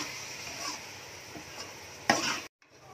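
Carrot halwa is roasted and stirred in a pan with a soft, steady sizzle, a few quiet scrapes and one louder stirring scrape near the end before the sound cuts off.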